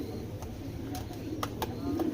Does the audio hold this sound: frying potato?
no